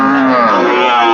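A cow at a village cattle market where pregnant cows are checked, giving one long, loud, close moo that holds steady throughout.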